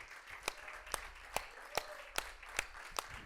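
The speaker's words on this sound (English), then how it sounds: "please put your hands together as we welcome Madame Maxceline" Faint, evenly spaced handclaps at a talk on child abuse and human rights in Cameroon, with a few sharp claps arriving at a steady beat as a speaker is welcomed.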